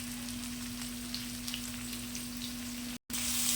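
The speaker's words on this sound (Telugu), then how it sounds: "ఆనియన్ త్వరగా వేగాలి కాబట్టి మనం సాల్ట్ వేసుకోవాలన్నమాట" Onion frying in a pan with salt and turmeric, a soft steady sizzle with faint pops over a constant low hum, broken by a brief dropout near the end.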